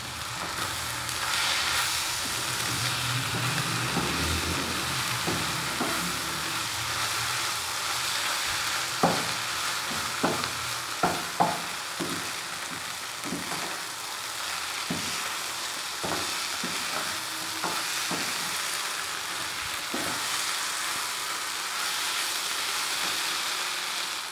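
A tomato paste mixture stirs and fries in a pan with a steady sizzle, while a spoon scrapes and taps the pan in scattered sharp clicks over most of the stretch; no voices.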